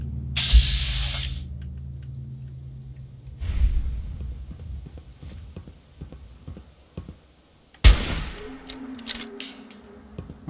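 Gunfire in the video game Fallout 4: a few sharp, isolated shots spread apart, the loudest near the end, with quiet ambient game sounds and a low hum in between.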